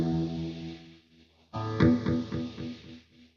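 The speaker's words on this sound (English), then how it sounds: "You can hear the delay in it there." Lekato Cube Baby guitar pedal with its delay effect engaged, a sustained guitar note fading, then a fresh strum whose echoes repeat several times in a decaying rhythmic trail.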